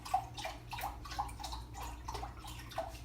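Low-sodium vegetable broth poured into a dish, a steady watery splashing and trickling stream running close by for about three seconds, with no talking.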